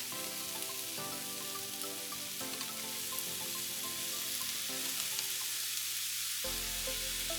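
Two tablespoons of minced garlic sizzling in a hot pan with sesame oil while pork egg rolls are made, a steady close crackle and hiss throughout, with faint stirring and clinks of utensils.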